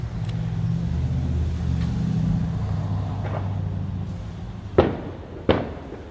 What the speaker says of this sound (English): Well, it's got some damn fireworks.